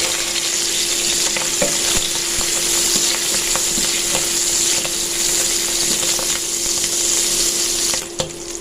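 Shrimp hiss and crackle loudly in hot cooking oil in a pot, with steady close frying and occasional stirring scrapes, dipping briefly near the end; no talking.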